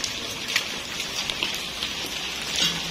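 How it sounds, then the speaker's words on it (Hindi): Heavy morning rain falls in a steady, even hiss with scattered sharper drop taps, continuous and fairly close throughout. "आज सुबह बहुत तेज बारिश हो रही है"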